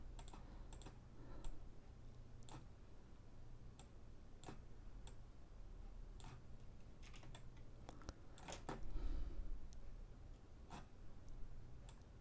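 Computer keyboard keys tapped during Photoshop work, a sparse irregular run of crisp clicks over a steady low room hum, close and soft, with a slightly busier flurry of presses partway through.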